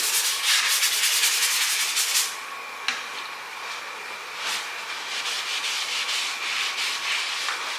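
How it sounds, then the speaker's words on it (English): A small brush scrubs leather cleaner into the leather of a Nissan GT-R interior during a detail, giving a steady close rubbing and scrubbing with brief pauses and one sharp tap partway through. "with the leather cleaner, little brush, just agitate"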